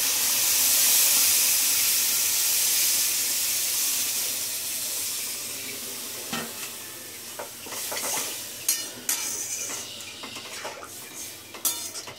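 Semolina upma sizzles and hisses loudly in a hot pan as water is poured in. The steam hiss gradually settles, giving way to clinking and scraping from stirring with utensils.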